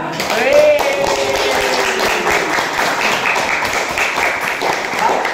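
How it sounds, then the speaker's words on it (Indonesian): Audience clapping together after an educational talk on protecting rare animals and forests, a steady, dense patter of applause from a nearby room, with voices mixed in underneath throughout. "Ya, tepuk tangan sama."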